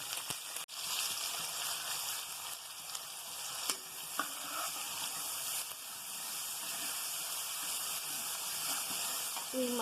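Chopped onions and ginger garlic paste sizzle steadily in a hot pan for a curry, a continuous bright frying hiss with occasional stirring clinks and faint background voices.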